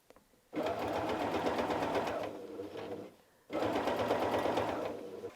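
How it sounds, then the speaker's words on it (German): A sewing machine stitches along a fabric edge in two close, loud runs of rapid needle strokes, the second starting after a short pause. "Und nähen einmal an unserer Kante entlang."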